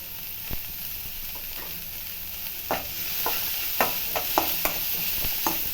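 Onion and capsicum frying in a pan for gobi manchurian, a steady soft sizzle with scattered spoon-stirring clicks and scrapes that grow more frequent toward the end.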